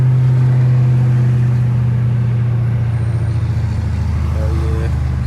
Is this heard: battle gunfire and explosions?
no